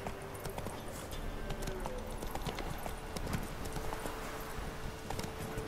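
Horse hooves galloping in The Witcher 3 video game, a steady rapid clip-clop rhythm over a continuous ambient game backdrop, moderately loud throughout.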